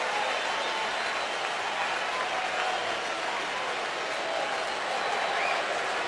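Crowd at a baseball stadium during a 2007 Indians ALDS playoff game, a dense, continuous roar of cheering and applause that holds steady and loud throughout.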